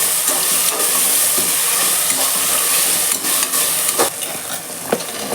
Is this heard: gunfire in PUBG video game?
no